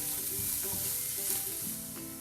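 A banana and bread mixture stirred in a hot pan for a Kerala snack, with a steady, loud sizzle throughout and the scrape of a spoon heard up close.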